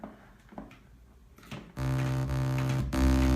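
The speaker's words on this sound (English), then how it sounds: "So it'll sound like this, just out of the 3x oscillator." A raw FL Studio 3x Osc synth with no effects: a few quiet, sparse tones first, then a loud, sustained, buzzy harmonic-rich note enters and holds, briefly cut before resuming even stronger.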